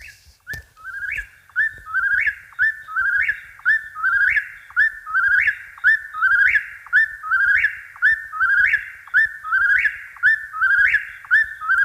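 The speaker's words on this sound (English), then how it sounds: "Now I'm going to let you hear what that bird sounds like." A bird sings repeatedly at night just outside a window, a loud, regular phrase of rising whistled notes repeated about every second, alone with no talk.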